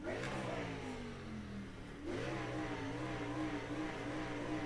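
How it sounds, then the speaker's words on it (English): A Gen4 stock car on the grid at Daytona in iRacing revs its engine over and over. The engine note rises and falls, dips briefly, then climbs again at steady, moderately loud volume, with no voices. "if you're wondering why I'm revving my engine like that"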